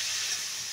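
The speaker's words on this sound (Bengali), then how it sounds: "এর পেঁপেটা একটু ভাজা হোক" Papaya pieces frying in hot oil with salt and turmeric, a steady close sizzle and hiss that holds evenly throughout, with no voices over it.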